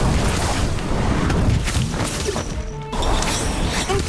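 Incendio fire spell in Harry Potter Magic Awakened, a dense crashing, roaring burst sustained for a few seconds, briefly cutting out before the clamour returns, loud and up close.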